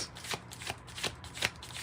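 A tarot card deck is shuffled close up, giving quick papery riffles in about four bursts with brief pauses between them, and no voices.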